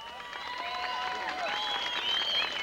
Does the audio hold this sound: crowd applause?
yes